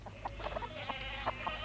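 Farmyard chickens clucking in a radio drama, several soft, quick clucks scattered irregularly over a low steady hum, moderately close and without voices.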